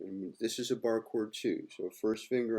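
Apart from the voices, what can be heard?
No everyday noises stand out.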